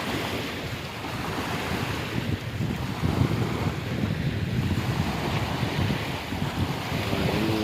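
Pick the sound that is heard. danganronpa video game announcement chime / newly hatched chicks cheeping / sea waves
sea waves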